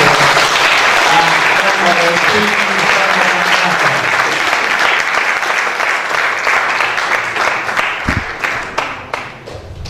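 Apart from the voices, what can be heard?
audience applause after a live poetry recital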